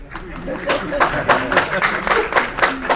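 Audience clapping at a Holi gathering with a Hindi comic poetry recital, a few hands beating loud, steady rhythmic claps close by while voices chatter over them.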